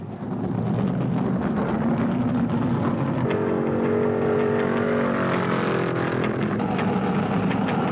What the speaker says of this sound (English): Now watch the cars pour into the pits.